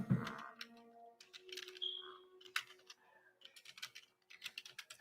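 Rapid typing on a worn-out computer keyboard missing keys, a quick irregular run of close, crisp clicks and taps heard alone at low volume.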